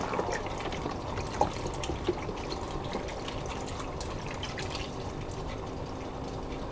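A 32-ounce container of dark, rich broth is poured into an Instant Pot pressure cooker for ham and bean soup, a steady continuous splashing fill with no talking.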